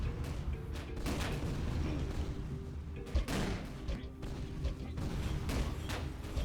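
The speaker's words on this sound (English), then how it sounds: "Is that wall firing bullets at me?" Rapid, repeated gunshots and thuds from walls firing bullets in a video game, a dense run of sharp cracks and booms with no pause between them.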